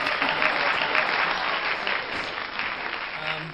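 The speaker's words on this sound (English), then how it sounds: "I'm gonna press the applause button." A sound-effect button plays a dense burst of crowd applause, loud and continuous, filling the whole moment with bright clapping noise before fading slightly at the end.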